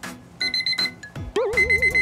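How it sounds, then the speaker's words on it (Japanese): An alarm clock rings in a morning home setting, sounding in repeated bursts of bright electronic beeps with brief gaps, then shifting to a warbling tone, loud and close. "アラーム鳴ってますぜ。"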